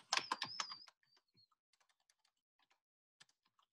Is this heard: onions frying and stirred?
no